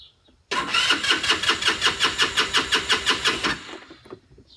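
A Tao Tao 150cc Chinese scooter engine cranks after a short silence, with a rapid, evenly pulsing starter rhythm for about three seconds, loud and close, then cuts off.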